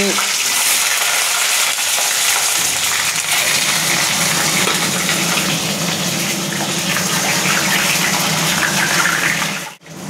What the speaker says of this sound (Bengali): ডিমটাকে প্রথমে ফ্রাই করা হচ্ছে এক এক করে